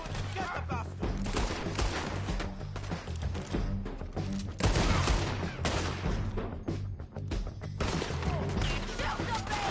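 Gunfire in Red Dead Redemption II, a rapid scatter of sharp shots cracking back and forth in a loud firefight, with shouted voices mixed among the blasts.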